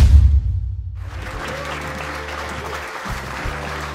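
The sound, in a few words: applause for Hudson's team at the police station in a film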